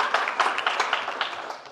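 A studio audience at a comedy roast show claps steadily for about two seconds, a dense even patter of many hands with no talk.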